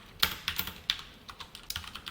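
Someone types code on a computer keyboard, and the key presses come as a quick, irregular run of crisp, close clicks. No voices are heard over the tapping.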